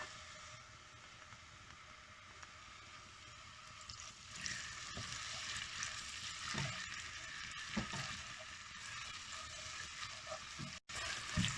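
Grated onion dropped into a few spoonfuls of hot oil in a pot for a garlic and rice curry. A soft hiss swells into a loud, steady sizzle that crackles and pops, with no one talking.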